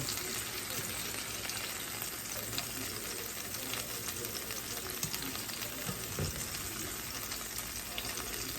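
Crappie fillets pan-frying in hot oil give a steady, dense sizzle and crackle throughout, close and even, with a few brief pops and no talking.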